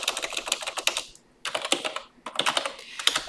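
Typing on a computer keyboard while working in Microsoft Excel Power Query, with close, quick clusters of clicking keystrokes broken by short gaps and no talking.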